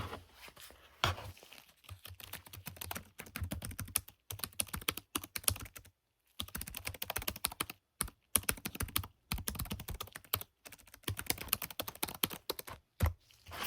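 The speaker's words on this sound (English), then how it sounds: "I'm just going to type that into our program." Fingers typing on a computer keyboard in a quiet, close-miked doctor-checkup roleplay setting, producing a steady run of clicky key clatter broken by brief pauses, with no voices.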